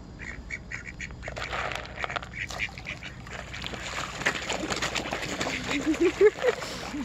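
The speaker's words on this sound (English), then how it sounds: "But the ducks keep gobbling it up before the fish do." Ducks quack repeatedly at a carp feeding pond, a busy run of nasal calls near and far that grows louder toward the end, with faint background murmur.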